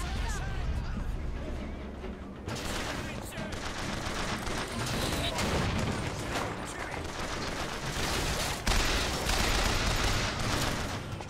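Dense gunfire in the Bioshock Infinite video game, continuous rapid shots and combat noise, loud and sustained throughout, with a voice talking under it.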